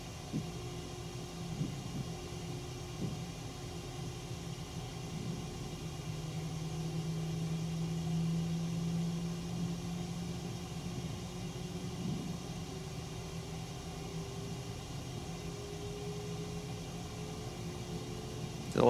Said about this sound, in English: Alright, so we got 2 engines stabilized at idle.